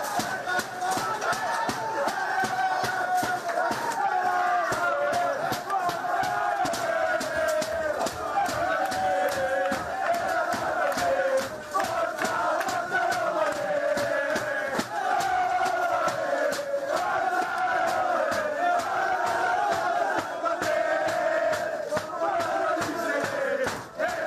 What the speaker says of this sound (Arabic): حول لاعبو روما غرفة تبديل الملابس إلى مسرح للغناء والرقص، حيث احتفل اللاعبون بطريقة هستيرية